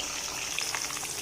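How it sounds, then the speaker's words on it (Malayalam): Kerala-style nadan chicken fry pieces, already flipped, sizzling in a pan as they finish frying: a steady, close crackling hiss with small pops throughout, no voices. "ചിക്കൻ പൊരിച്ച് ഞാൻ മറിച്ചിട്ട് കൊടുത്തിട്ടുണ്ട്. ഒന്നുകൂടെ മൂക്കട്ടെ ഒന്ന്."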